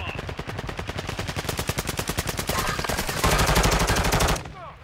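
A KV Broadside shotgun fires over and over in Call of Duty Warzone 2.0, the loud, close shots coming in a fast, steady rhythm for several seconds before cutting off abruptly.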